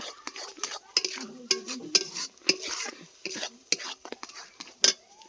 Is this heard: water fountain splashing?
no